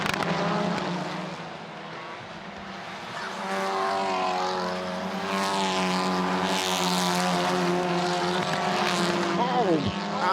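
TCR Europe touring cars race through turn one at Zandvoort in 2018, engines roaring loudly with rising and falling pitch as several cars pass in close succession, under commentary.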